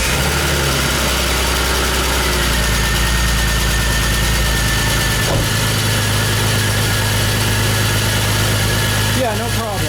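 A BMW E46 engine, recently fitted with new lifters, runs at a steady idle with a loud, constant low rumble and vibration, briefly rattly at first, with a short burst of higher-pitched squeal near the end.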